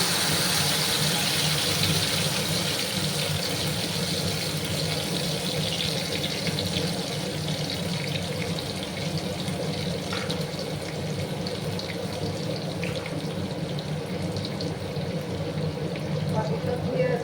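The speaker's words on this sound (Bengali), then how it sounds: "জল দিলাম" Water pouring into a curry pan holding a ground mustard, poppy seed and green chilli paste for a vegetarian bori jhal, a steady close rushing wash running the whole time without a break.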